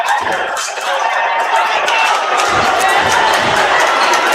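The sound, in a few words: basketball crowd cheering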